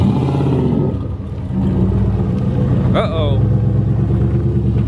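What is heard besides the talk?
turbocharged 1967 Chevelle doing burnouts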